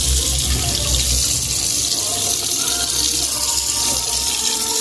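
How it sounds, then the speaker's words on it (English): Tap water pours steadily into a bottle, a loud close hissing rush that holds even throughout with a faint low rumble beneath and no speech. "I full this of water."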